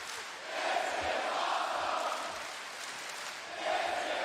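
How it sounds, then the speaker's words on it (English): A large wrestling crowd fills an AEW arena at Budweiser Gardens with a steady roar of cheering and shouting that swells at the start and again near the end, with no speech over it. "you're looking at a great crowd on hand here at the Budweiser Gardens"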